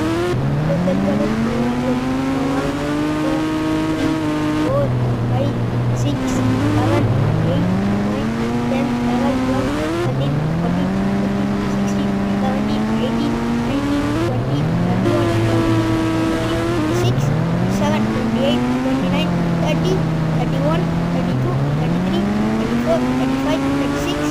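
A motorcycle engine revs hard and repeatedly during a wheelie, loud and close, each rising whine climbing then dropping back in a steady cycle for about twenty-four seconds, with speech heard over it.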